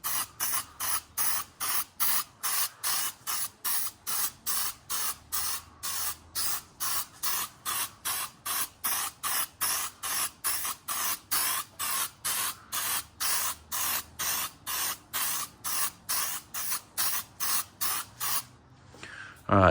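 An aerosol spray paint can puts a light tack coat on car exhaust tips in dozens of short, evenly spaced hissing bursts. The bursts are close and steady, with no talk.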